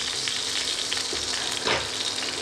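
Mushrooms gently sautéing in fat in a pan, a close, continuous sizzle with a brief stir around the middle, no voices.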